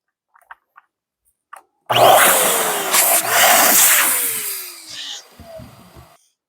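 A balloon being inflated with an electric pump for a balloon palm tree: a few faint clicks, then a loud, steady rushing hiss of air that holds for about four seconds and tapers off.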